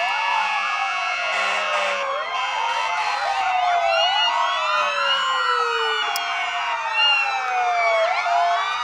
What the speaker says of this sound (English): Sirens work just fine.